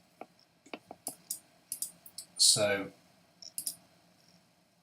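Sharp computer mouse clicks come in short irregular bursts, some single and some doubled, with a brief burst of speech in the middle and quiet room tone between clicks.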